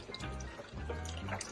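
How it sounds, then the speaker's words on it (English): Water runs from a kitchen tap as hands are washed during cooking, a short steady splashing wash with low background hum. "You are rushing to wash your hands."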